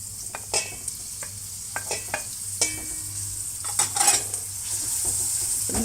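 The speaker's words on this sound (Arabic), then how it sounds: "حنضيف الفلفل الرومي، طبعا حنخليهم يتدبلوا شوية، وحنضيف حبة البندورة" Green bell peppers and a tomato sizzle and fry in a pot for a chicken kabsa, with repeated stirring scrapes and light clinks of a utensil against the pot over a steady hiss, close up and with no talking.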